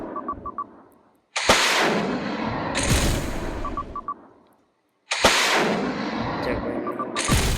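Loud bursts of gunfire and explosive blasts from a fighter jet video game, two long heavy barrages each cutting off abruptly, separated by a short silent gap, with small beeps between them.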